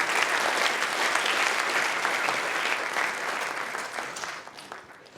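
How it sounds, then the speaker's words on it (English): A room full of people at a programming talk applauds, loud continuous clapping that holds steady before thinning out toward the end. "applause is welcome"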